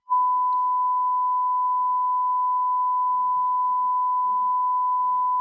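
A steady, loud civil defense air raid alert tone drones on without a break, with faint background voices underneath it and a burst of noise at the end.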